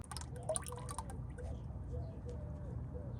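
Engine oil drains from a Camaro ZL1 into a bucket, a faint, steady trickling with a few small drips and splashes close by.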